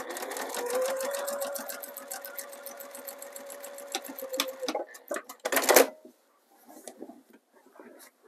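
Sewing machine stitching quilt binding runs in a steady, fast whirring buzz for several seconds, then stops, followed by a few clicks and faint handling noises.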